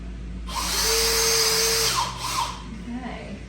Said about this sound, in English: So I'm just going to drill a few holes through these tools.